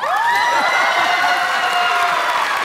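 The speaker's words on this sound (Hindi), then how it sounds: "तालियां" Studio audience at a Pakistani comedy talk show claps and cheers loudly and steadily, with whoops and shouts over the crowd noise and rising vocal tones running through it.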